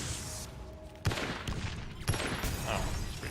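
Gauss gun in the shooter game Contra: Rogue Corps, firing in heavy, crackling bursts that start abruptly every half second to a second, loud and close with little talk.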